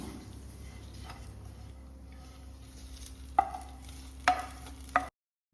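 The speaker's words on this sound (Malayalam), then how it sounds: "ഈ വറുത്ത തേങ്ങ നമുക്ക് എരിശ്ശേരിയിലേക്ക് ആഡ് ചെയ്ത് കൊടുക്കാം" Roasted coconut tipped into a pan of pumpkin erissery and stirred, heard as a few faint metallic spoon clinks and scrapes against a quiet kitchen background, with no one speaking.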